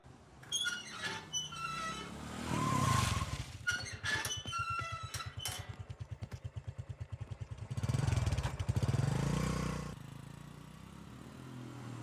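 A car engine revs and pulls away in a dubbed action-movie scene, its throbbing rumble building in the middle and then surging before fading, with scattered clatter and squeaks around it.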